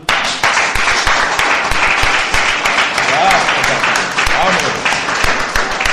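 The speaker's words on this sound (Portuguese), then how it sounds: "Vamos aplaudir a Deus?" A church congregation applauds in praise at a worship service, dense sustained clapping for about six seconds, loud and steady throughout, with voices mixed faintly underneath.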